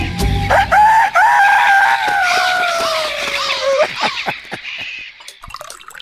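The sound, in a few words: rooster crowing and clucking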